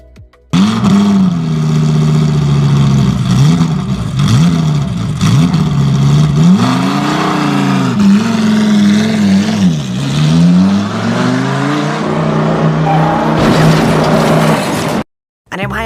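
Motorbike engines in a Free Fire game scene rev and whine loudly and close up, pitch rising and falling in repeated surges, briefly cut off near the end before resuming.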